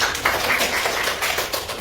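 Scattered hand clapping from a class of students applauding a classmate, a short burst of uneven claps close by with no talking over it.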